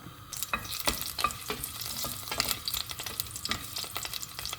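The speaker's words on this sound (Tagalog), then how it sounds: "Igisa muna natin. Ayan, lagyan na natin ng ating, ang tawag yan, luya." Ginger sautéing in a hot pan as the base for chicken tinola, a steady broadband sizzle with repeated sharp scrapes and stirs of a utensil against the pan, close and alone.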